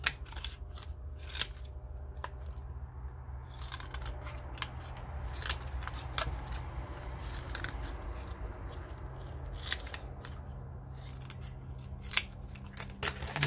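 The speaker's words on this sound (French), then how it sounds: "On va venir couper les angles en biais." Scissors snip repeatedly through paper, trimming the corners of a craft piece on the diagonal for a pen-pot boot project; a run of crisp, close cuts in an irregular rhythm over a quiet room hum, with no talk.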